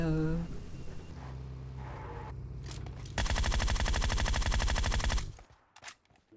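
Rapid automatic gunfire rattles in a mobile battle royale game played at 90fps on a Realme X2 Pro, a dense two-second burst following voice and game sounds, then fading to quieter bursts.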